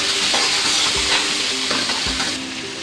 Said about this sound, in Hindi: चलिए प्याज को थोड़ा सा भूनेंगे। दो मिनट प्याज को पकाएंगे